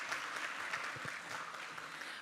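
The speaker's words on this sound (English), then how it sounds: "Please welcome Ms. Miriam Stankovic with a big round of applause." A symposium audience gives a steady wash of applause to welcome a speaker, dense overlapping clapping heard from a distance, fairly faint and even throughout.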